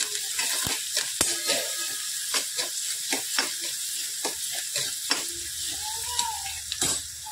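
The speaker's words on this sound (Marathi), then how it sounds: "ते सुद्धा त्याचा कच्चेपणा घालून जाण्यासाठी अगदी 1-2 मिनिटासाठी तरी परतायचं आहे" Vegetables for cluster-bean bhaji are sautéed in a pan, a light sizzle punctuated by frequent sharp taps and scrapes of a stirring spoon, without speech.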